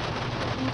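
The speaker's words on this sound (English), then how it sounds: "it's still going, so I don't know how much rain we'll get" Steady rain falling outdoors after a fire, a dense, even hiss of drops on surfaces, moderately quiet and unbroken through a brief moment.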